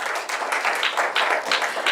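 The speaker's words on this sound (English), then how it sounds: "Let's give him a round of applause" Audience at a pharma workshop clapping in a steady round of applause, a dense patter of many hands close by with no talking.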